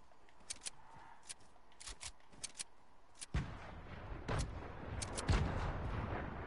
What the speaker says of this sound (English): Yeah, I heard that explosion too.